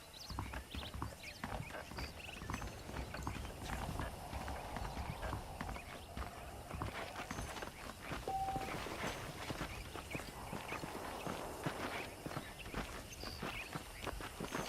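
Steady clip-clop of horse hooves walking in the video game Red Dead Redemption, continuous and fairly close, with a busy background of ambient noise and no talking.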